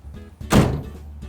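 A rear door on a 2020 Maxus T60 Elite 4x4 pickup swings shut with a single solid, close thunk and a brief rattle after it.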